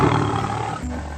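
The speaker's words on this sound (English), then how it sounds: "tiger. Tiger." A tiger gives a single loud, deep, rasping roar that fades out and then picks up again briefly, close and alone with no talking.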